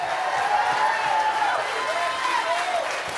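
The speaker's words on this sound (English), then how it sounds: "clap your hands one more time and give the Lord a mighty shout" Church congregation at a summer revival service clapping hands and shouting together, a dense, sustained roar of applause and raised voices.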